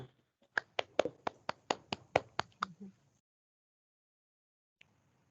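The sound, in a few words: meeting attendees clapping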